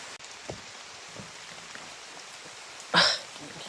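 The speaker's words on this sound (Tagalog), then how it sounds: "Malakas ang ulan mga tol." Heavy rain falls outdoors as a steady, fairly faint hiss throughout, broken by one brief louder sound near the end.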